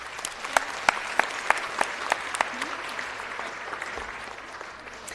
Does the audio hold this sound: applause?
yes